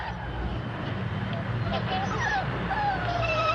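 Puppies whimpering and yipping in high, thin wavering cries over a steady low background hum, fairly close and continuous.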